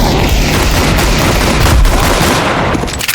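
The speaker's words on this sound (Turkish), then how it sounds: "Aa bomba var elimde. Bomba atayım." A video game grenade is thrown and explodes in a snowy team shootout, with dense booming blasts and gunfire rumbling loudly throughout and fading out near the end.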